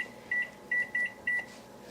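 A kitchen timer being set gives four short, clear electronic beeps in an irregular rhythm, close and fairly loud against a quiet room.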